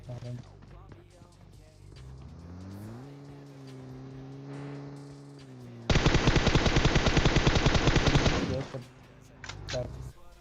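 Rapid automatic gunfire in PUBG Mobile, a dense burst of loud shots lasting about three seconds, preceded by game ambience with a steady engine-like drone.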